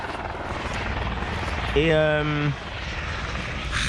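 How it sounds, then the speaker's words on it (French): Helicopters flying over a nearby helipad beside a mountain market garden make a steady distant rotor drone, and a person speaks briefly over it in the middle. "on est un peu baigné au champ des hélicos d'à côté"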